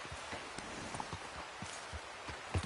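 A horse, called boy by its rider, walks with a steady, soft clip-clop of hooves, fairly quiet and even-paced, with a little background noise and no talking.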